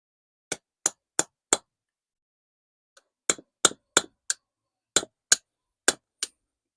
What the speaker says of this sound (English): I'll just grab my chisel. See if we can chisel that off.